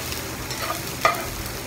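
Beef marinated in salt sizzling and frying in a pan for beef broccoli, a steady close hiss with a brief stirring scrape, no talking.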